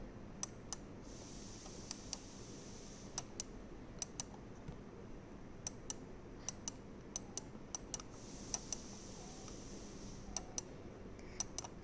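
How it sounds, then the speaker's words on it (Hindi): A computer mouse button clicked repeatedly, sharp separate clicks at an uneven pace over a faint steady background hum, with no talk. "That sound is known as the clicking sound."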